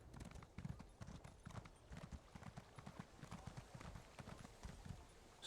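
Horse hooves clip-clop steadily in The Elder Scrolls Online as a mount trots along, a quick continuous rhythm of soft, close thuds with no talk over them.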